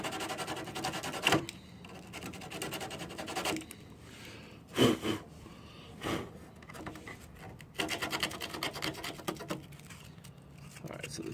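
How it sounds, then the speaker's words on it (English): Hand sanding of a plastic GY6 scooter body panel, old paint and superglue being rubbed off in a few bursts of rasping strokes, close and moderately loud, with short pauses and clunks between. "We want to sand this guy."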